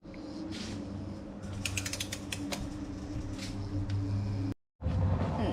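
Close ratchet clicks in a quick run while tightening the oil filter cap on a Porsche 911 (991/992 Carrera), over a steady mechanical hum, followed by a brief silence and more noise.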